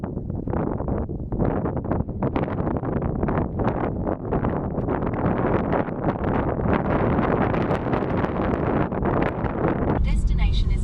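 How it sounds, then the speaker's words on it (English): Wind gusting across an exposed high mountain overlook at Forest Canyon, a steady, loud rushing roar buffeting the microphone throughout. "It certainly was quite windy and cool up here."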